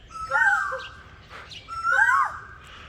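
A person whistles two short warbling birdlike calls, imitating birdsong, with a soft breathy pause between them in a quiet setting.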